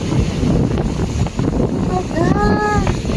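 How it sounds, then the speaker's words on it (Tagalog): Strong Habagat monsoon wind roars across Boracay beach and buffets the microphone in a constant loud rumble, with surf beneath it and a brief high whistle-like tone near the end. "Habagat! Pero sarap pa rin. Super hangin."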